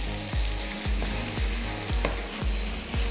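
Vegetables sizzle and fry in a hot pan for a veal dish with thyme, a steady loud hiss broken by regular scraping stirs roughly every half second.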